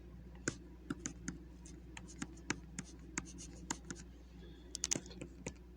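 Writing strokes while working a calculus limits lesson on screen: a steady series of short, sharp taps and scratches, about a dozen evenly spaced strokes close up, with no talking.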